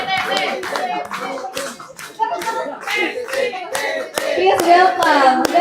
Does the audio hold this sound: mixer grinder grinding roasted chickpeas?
no